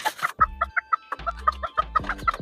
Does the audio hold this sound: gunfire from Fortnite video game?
no